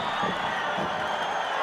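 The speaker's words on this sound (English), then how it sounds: "The crowd off their chairs." A judo arena crowd at the 2019 Tashkent Grand Prix cheers a scored waza-ari, a steady, dense roar of many voices with no clear breaks.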